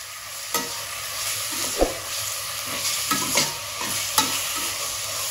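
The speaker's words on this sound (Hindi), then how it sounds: "अभी इसको 2-3 मिनट ना फ्राई करेंगे ऐसे ही" Minced meat (keema) fries in a pan with a steady close sizzle, broken by several sharp scraping knocks as it is stirred; no one speaks.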